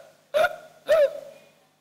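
A man imitates hiccups with his voice while telling a story about a man who overate at a wedding festival: two sharp, loud vocal hiccup bursts about half a second apart, each trailing off briefly.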